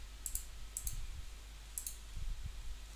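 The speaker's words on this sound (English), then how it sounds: "Now I will click on next." Three faint, sharp computer mouse clicks on a Next button in a software installer, with quiet room hum and no talking.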